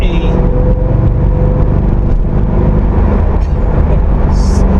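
A Corvette Z06 engine roars loudly from inside the car, droning steadily as it accelerates hard.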